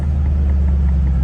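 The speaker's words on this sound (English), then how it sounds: "It's got a little burble" A 2007 Ford Mustang GT V8 idles with a low, steady burble, loud and close, a constant throaty rumble with no talk over it.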